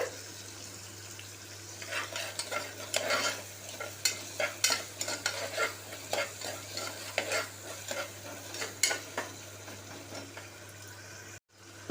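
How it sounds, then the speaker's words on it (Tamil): Onions and tomato sauté in a pan as a spoon stirs them, making a run of soft, uneven scraping strokes over a steady low sizzle, close and moderately loud, with no talking. "இப்போ வெங்காயம் நல்லா வதங்கிருச்சு. தக்காளியை சேர்த்துக்கலாம்."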